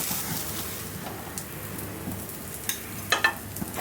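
A fried egg topped with cheese sizzles steadily under a lid in a pan, a close, even hiss like light rain, with a few small pops and clatters near the end and no talking.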